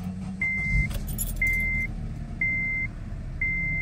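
Chime of an Acura RDX as it is switched off and back on, four evenly spaced electronic beeps about one second apart over a low engine-like hum and a brief jangle near the start, with no voices.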